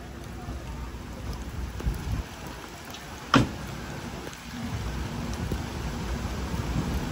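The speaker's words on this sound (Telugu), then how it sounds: "ఈ స్టేషన్లో ఉన్నట్టుండి వర్షం చాలా అంటే చాలా పెద్ద అయిపోయింది" Heavy rain at a station near Karjat Junction, heard from inside a long-distance express train, a steady wash of rainfall with a sharp crack partway through, over a low rumble.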